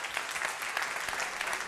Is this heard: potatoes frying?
no